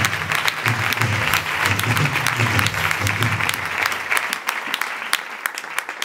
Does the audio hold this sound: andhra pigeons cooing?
no